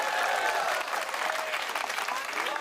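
Audience applause at a Hindi comedy poetry show: a dense, steady burst of many hands clapping together, loud and close, holding for a couple of seconds with no talk over it.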